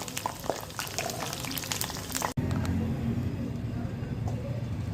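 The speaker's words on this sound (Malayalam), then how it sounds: "നമുക്ക് പിന്നെ കംപ്ലീറ്റ് ഇതുപോലെ പൊരിച്ച് കോരിയെടുക്കാം" Cauliflower florets deep-frying in hot oil for gobi manchurian make a steady, dense bubbling sizzle that breaks off briefly midway and then comes back louder and fuller, with no one talking.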